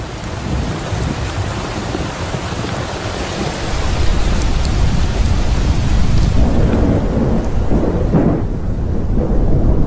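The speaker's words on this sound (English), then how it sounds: "After 7 months, the rains are returning." Loud, constant rainfall pours down while deep thunder rumbles beneath it, swelling slightly midway; no one speaks. The first rains returning after a seven-month dry season in lion country.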